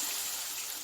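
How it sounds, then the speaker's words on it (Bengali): Water pours steadily into a spiced fish curry masala with mustard in a hot pan, a continuous close hissing gush that holds even throughout without pause. "এবার একটু জল দেবো"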